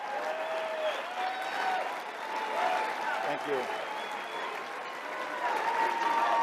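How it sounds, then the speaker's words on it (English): CPAC conference crowd applause, a sustained roar of clapping and cheering from a large audience, with a voice briefly speaking over it partway through. "Huge round of applause."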